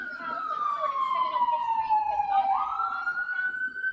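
Ambulance siren wailing past, a strong sweeping tone that glides steadily down in pitch then jumps back up, loud and close over faint street noise.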